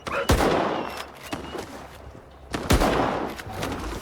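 Two sharp, loud gunshots in the video game S.T.A.L.K.E.R. ring out a couple of seconds apart, each followed by a short rumbling decay.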